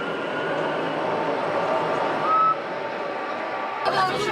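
Steady rumble and hum fill the cabin of a moving train in Auvergne, France, with a constant low roar, a brief tonal squeal, and a louder clatter near the end.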